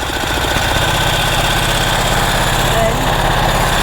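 A 108-year-old Harley-Davidson motorcycle engine chugs steadily and close by, with a loud, even low-pitched beat running throughout the clip and no pauses.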